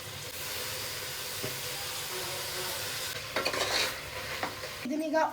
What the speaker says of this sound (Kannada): ಇದನ್ನು ಚೆನ್ನಾಗಿ ಮಿಕ್ಸ್ ಮಾಡಿಕೊಂಡು ಹೆಚ್ಚಿಟ್ಕೊಂಡಿರೋ ಟೊಮ್ಯಾಟೊ ನಾನಿಲ್ಲಿ ದಪ್ಪದು ಎರಡು ಟೊಮ್ಯಾಟೊ ಹಾಕ್ತಿದ್ದೀನಿ